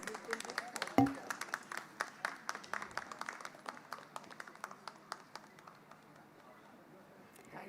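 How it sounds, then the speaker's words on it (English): Audience clapping at a competition awards ceremony for a third-place winner receiving a certificate on stage; a steady patter of scattered hand claps with one sharp knock near the start, gradually thinning toward the end. "A big round of applause, please."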